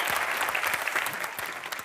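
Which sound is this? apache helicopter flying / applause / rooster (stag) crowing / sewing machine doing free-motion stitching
applause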